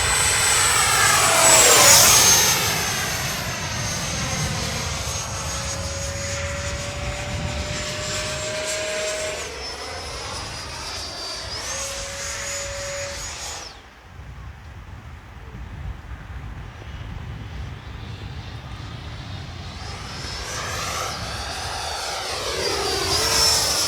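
A Freewing 90mm Eurofighter RC electric ducted-fan jet roars continuously, its whine swelling and fading as it passes overhead with pitch sweeps, loud and close before receding briefly and returning.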